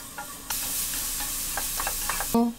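Carrots stir-fried with salt for gimbap fill a pan with steady, close sizzling, broken by a few scraping stirs and a louder clatter of the utensil near the end.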